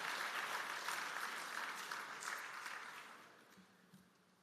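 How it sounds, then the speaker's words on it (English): An audience applauds at the opening ceremony of a Conference of Heads of Government meeting. Broad, continuous clapping holds steady, then fades out over the last second or so, leaving a quieter room. "Yes, I would invite you to clap for that."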